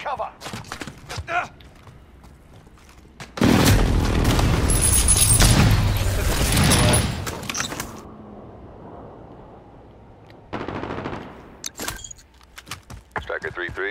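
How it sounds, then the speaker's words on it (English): Precision airstrike explosions erupt in a military shooter game, a long roaring burst of booms for several seconds followed by a second shorter blast, with a radio voice talking and clicks before it. "Enemy precision airstrike."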